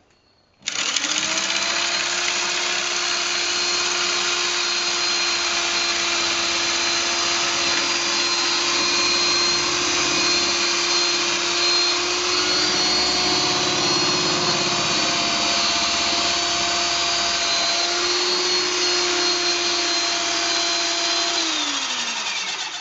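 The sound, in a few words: electric drill spinning dowel in dowel maker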